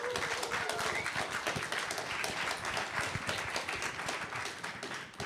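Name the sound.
applause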